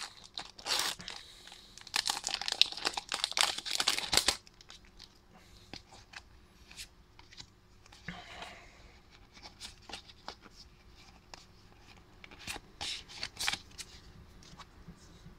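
Foil wrapper of a Pokémon booster pack crinkles and tears open, loud crackly bursts up close, followed by quieter shuffling and handling of cards.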